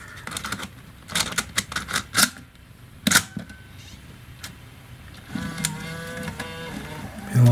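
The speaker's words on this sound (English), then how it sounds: "Let's see if we can load a tape." A Sony TRV510 Digital8 Handycam loading a tape, giving a series of quiet mechanical clicks and clunks, followed by a whirring, grinding tape-transport motor that ends on a louder clunk.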